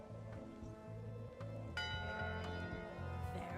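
Bell rung for a pirate crew vote in the game Return to Monkey Island, with a few clear metallic strikes ringing out over a steady low background hum, the loudest strike near the middle.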